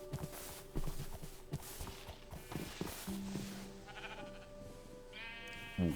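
Sheep bleat softly in the Minecraft video game, several short wavering calls over a quiet ambient background, with a louder, clearer bleat near the end.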